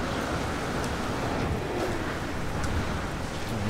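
Steady rain in the video game No Man's Sky, a dense, continuous rushing hiss with a low rumble beneath, even in loudness and without any talking.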